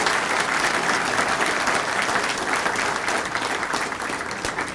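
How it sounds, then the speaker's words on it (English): An audience at an Illinois Department of Transportation address gives a sustained round of applause, loud and dense from start to finish with no pause. "I would just ask that you recognize their efforts with a round of applause"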